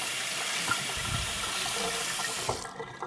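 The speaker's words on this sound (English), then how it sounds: "So make sure you run it under the cold water" Steady running water from a cold tap pours over a hot sponge, a broad continuous rush that holds even, then cuts off sharply near the end and leaves a faint drip and clatter.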